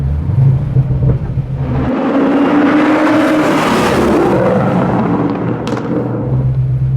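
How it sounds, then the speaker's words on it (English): A supercharged 800-horsepower 1969 Camaro widebody revs hard and loud, its choppy idle swelling into a long sustained roar before settling back to a lumpy idle, heard up close. "Oh my God, the sounds this car makes, dude"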